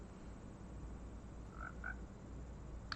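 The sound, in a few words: frogs croaking in Minecraft video game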